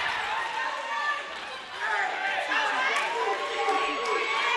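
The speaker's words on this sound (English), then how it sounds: "Jamari Neal, the crowd is on their feet." Dense, steady crowd roar fills a basketball gym as fans rise to their feet late in a close game, with a slight dip partway through before swelling back, voices and chatter blended into one continuous wash.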